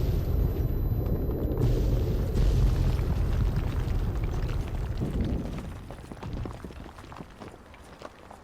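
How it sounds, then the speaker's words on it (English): A heavy explosion in the video game Fallout 3 produces a loud, deep rumbling roar that holds for several seconds, then gradually thins out and fades, with no voices over it. "explosion's supposed to trigger."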